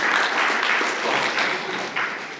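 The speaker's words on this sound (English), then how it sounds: "Round of applause for him?" A crowd applauds steadily, dense clapping close and continuous throughout, with a faint voice mixed in near the end.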